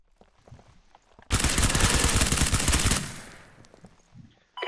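A loud, dense burst of rapid automatic gunfire in Ground Branch, a tactical shooter set in a power station, runs for under two seconds and then trails off into quieter scattered shots and footsteps.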